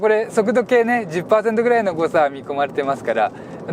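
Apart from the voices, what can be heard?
No everyday noise stands out behind the speech.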